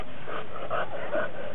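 A dog whimpers and pants softly in brief, faint bursts during a decoy handler training course, close by with no talk over it.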